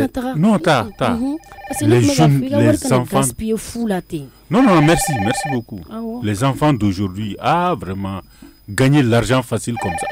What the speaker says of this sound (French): Là, c'est mon téléphone.